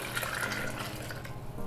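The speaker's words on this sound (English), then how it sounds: "I'm going to cover that with water" Water pours from a tap over roughly chopped vegetables in a kitchen, a faint, continuous splashing and trickling stream with no talking.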